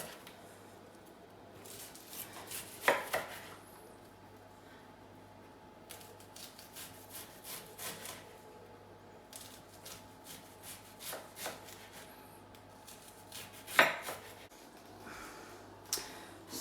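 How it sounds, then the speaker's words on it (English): A knife slices an aubergine into rounds and chops it on a board, quiet irregular taps and cuts with two sharper knocks, faint and close with no talking. "So literally just slicing that into little circular slices and then chopping it up."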